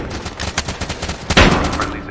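Gunfire in the first-person shooter Zero Hour, a fast run of sharp shots with one heavier blast near the middle, mixed with game noise and faint voices.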